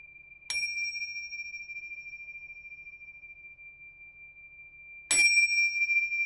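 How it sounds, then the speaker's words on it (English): A bicycle bell rings twice, each a single bright ding with a long ringing tail, about four and a half seconds apart, close and clear over a faint low background hum. "to ring the bell"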